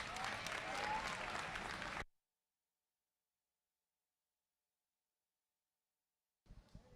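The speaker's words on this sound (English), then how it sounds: "let's give this first class a round of applause" A crowd applauds the first class at a junior livestock showmanship event, steady dense clapping for about two seconds that cuts off into silence before a faint burst of noise returns near the end.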